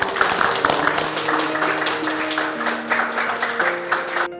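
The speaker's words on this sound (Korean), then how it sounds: "우리 박수 한번 쳐주시죠." Audience clapping for two trainees at a functional outdoor footwear company, a steady wash of hands lasting several seconds with sustained musical tones underneath, until it cuts off at the end.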